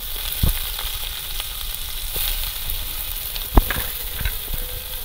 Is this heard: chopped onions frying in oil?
yes